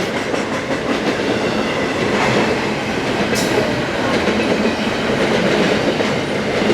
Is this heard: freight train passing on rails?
yes